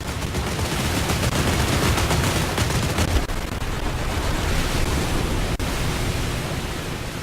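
Rapid gunfire in the War Thunder video game aimed at an enemy sub-chaser, a dense, continuous crackling burst of shots at steady loudness, followed by a noisier roar with occasional sharper reports.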